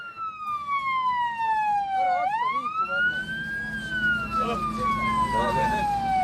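A fire truck's wailing siren sweeps down in pitch, then back up and slowly down again, loud and close, with traffic rumbling underneath.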